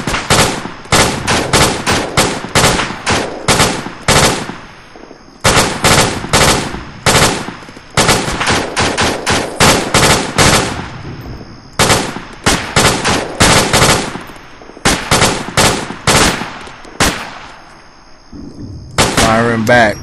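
Video game gunfire in ARMA 2: Operation Arrowhead, a Tora Bora mission: loud, close bursts of automatic fire repeat in rapid rhythmic volleys with short gaps, like heavy machine-gun and rifle exchanges.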